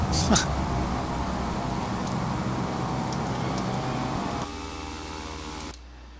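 Engines of a Beechcraft Starship in Flight Simulator X roar in reverse thrust on a runway, a loud sustained turbine drone that drops in level and then cuts off sharply near the end.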